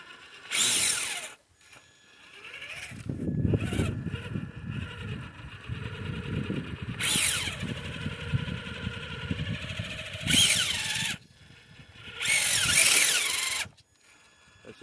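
Rubber crawler tires on a Traxxas TRX4 and an Axial SCX10 III Bronco, scale RC trucks with mudslinger tires, spin in place in a stump area. A whirring electric motor drone builds, pauses and resumes, with sharp bursts of spraying debris.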